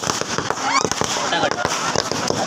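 Firecrackers bursting during a Ganpati immersion procession, a rapid string of sharp cracks and pops close by, continuing throughout under excited voices.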